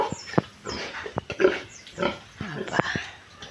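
Pigs grunting and oinking in a piggery, a run of short close grunts and squeals in an irregular rhythm, with some brief talk mixed in.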